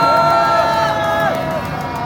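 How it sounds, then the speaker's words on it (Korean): Crowd at an outdoor rally against a presidential impeachment in Gwanghwamun, cheering and shouting in a continuous roar with whoops rising above it. "큰 박수로 좀 모셔주세요."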